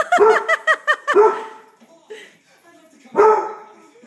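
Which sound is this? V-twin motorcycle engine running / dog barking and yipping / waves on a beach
dog barking and yipping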